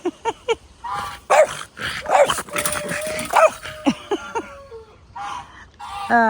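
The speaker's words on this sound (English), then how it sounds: "Can you see that dog?" A dog barks repeatedly in a summer garden, a mix of sharp barks, yips and whimpers in an irregular series, fairly close, with a faint whistle-like tone in the background.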